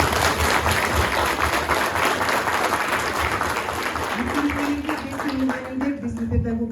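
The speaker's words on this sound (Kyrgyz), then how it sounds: "урматтуу катышуучулар, уюштуруучуларга өзүнчө бир дүркүрөгөн кол чаап койсун." A crowd claps for participants and organisers at a Kyrgyz-Turkish girls' lyceum event, loud dense applause filling the hall before a voice starts speaking over it.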